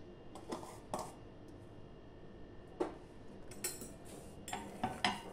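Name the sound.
mixing filling into mashed potatoes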